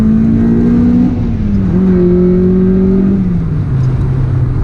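A loud engine in a 300hp Honda CL1 Accord Euro R pulls hard from inside the cabin, kicking into VTEC, its pitch climbing and shifting between gears as the revs surge and drop.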